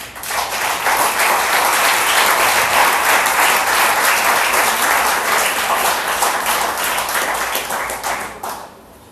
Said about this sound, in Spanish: Ahora sí te doy permiso para que le aplaudas.